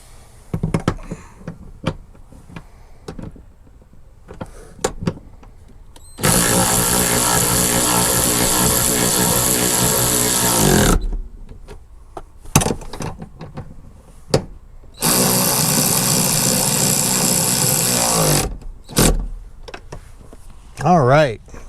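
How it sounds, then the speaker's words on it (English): A power tool drives seat bolts back into a Ford Bronco. Two long, loud, steady whirring runs of about four seconds each are separated by clicks and knocks, with some quiet talk in the gaps. "bolt these all the way back in"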